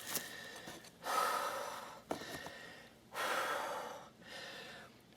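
A person pants heavily at high altitude, catching their breath in four close, drawn-out gasps separated by short pauses.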